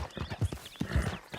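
Horse hooves pound in a quick galloping rhythm in Red Dead Redemption 2, close and fairly loud, with a rider's voice nearby.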